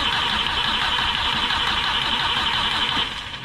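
Car engine with a big turbo being cranked over without starting to build oil pressure, a steady loud churning whir holding for about three seconds before easing off.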